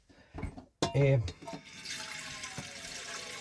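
Water is poured into a cooking pot to a depth of just over a centimetre for a mince stew, a steady close rushing splash that builds after a brief vocal sound and carries on to the end.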